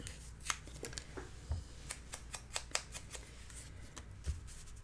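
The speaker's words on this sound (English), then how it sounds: "So I just need to tear the top." Paper being torn by hand for a handmade mini album: a series of short, crisp rips and rustles at close range, scattered unevenly across a quiet room with no talking.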